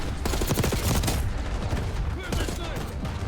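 Rapid shots from the Amy's gun in a Call of Duty game, a quick run of sharp reports up front followed by a noisy, reverberant tail with a few more scattered hits.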